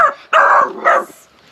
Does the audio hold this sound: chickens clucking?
no